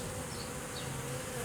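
Honey bees buzz at a hive entrance after a swarm introduction, with a few bees fanning out front, making a dense continuous hum close by and no talk.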